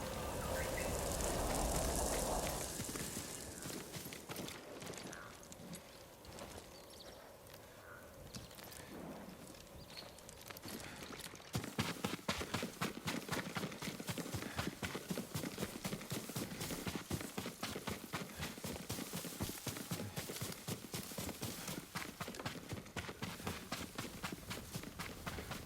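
Steady rhythmic hoofbeats of a horse trotting in Ghost of Tsushima, close and continuous through the second half, after a softer stretch of shuffling and ambient sound.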